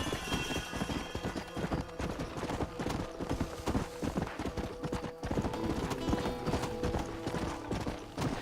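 Horse hooves galloping in the Red Dead Redemption video game, a rapid, continuous clip-clop rhythm over game music and ambient sound, steady and close throughout.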